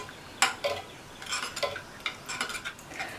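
A spoon clinks and scrapes against a pot while coconut milk is stirred into milk kozhukattai dumplings, with a run of irregular light taps and scrapes close up and no talk.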